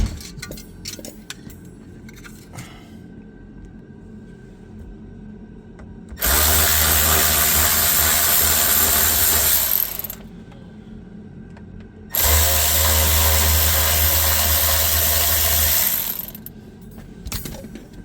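A power drill backs out T20 Torx screws from a Land Rover Range Rover Sport HSE dashboard panel, with two loud sustained whirring runs of about four seconds each, separated by a pause with faint handling clicks.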